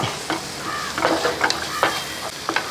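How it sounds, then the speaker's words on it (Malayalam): Chicken stirred with soy sauce in a frying pan: a close, steady sizzle broken by several scraping spatula strokes at irregular intervals, with no talking. "ഇപ്പം സോയാ സോസ് ഒഴിച്ച് ഇങ്ങനെ ഒന്ന് ഇളക്കി കൊടുത്തതിന് ശേഷം"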